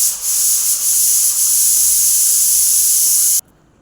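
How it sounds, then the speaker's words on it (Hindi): A pressure cooker whistle in a home kitchen lets out a loud, steady hiss that holds for over three seconds and then cuts off abruptly, leaving near silence. "कुकर का आवाज़ आ गया था।"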